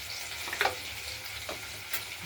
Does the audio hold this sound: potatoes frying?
yes